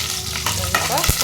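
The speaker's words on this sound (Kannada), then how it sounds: "ಫ್ರೈ ಮಾಡ್ಕೊಳ್ಳಿ." Spices, including a dried red chilli, fry in a pan for rasam with a brief, close sizzle and stirring scrape.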